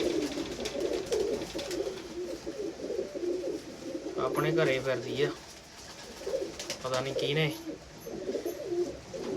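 Jarnail-breed pigeons coo in two low, throaty bursts near the middle, while a person talks nearby through most of the clip.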